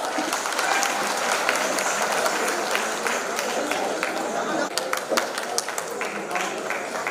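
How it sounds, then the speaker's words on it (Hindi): Audience applause at a radio listeners' conference hall, a loud sustained crowd clapping over seven seconds with sharper individual claps near the end and a faint murmur of voices beneath. "तालियां।"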